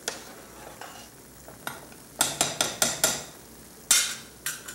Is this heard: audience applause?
no